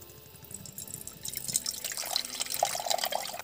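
Coconut water pours and splashes out of a freshly split coconut, a soft, close trickle with small drips that builds slightly toward the end.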